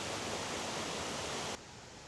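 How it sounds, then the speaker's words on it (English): Upper waterfall below a stone mill dam at the Green Hole, a loud, steady broadband roar of falling water that cuts to a slightly quieter, duller rush near the end, with no voices. "We're now standing below the upper falls."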